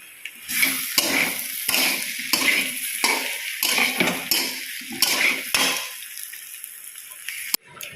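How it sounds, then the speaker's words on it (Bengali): Potato and green jackfruit curry being sautéed in a pan, a spatula scraping and knocking against the metal in a steady rhythm of strokes over a soft sizzle, near and without talk. "এবার একটু টাইম নিয়ে এটা ভালো করে কষবো"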